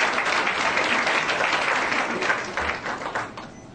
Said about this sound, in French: Je voudrais qu'on le remercie avec une forte applaudissements.